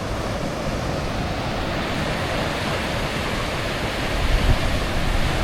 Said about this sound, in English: here's a couple of nice waves coming on through